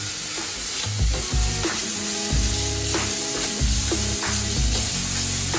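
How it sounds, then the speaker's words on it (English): Onions sautéing in a pan for rajma pasta with tomato sauce, Italian herbs and cheese: a steady, close sizzle with repeated stirring knocks and scrapes of the utensil every second or so. "Allow it to cook for 5 minutes. Allow it to saute."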